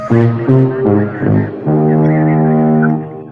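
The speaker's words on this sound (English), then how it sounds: "That's gonna be my air horn, Paulie." A loud, blaring horn-like tone sounds in several short bursts, then one long sustained blast that fades out at the end.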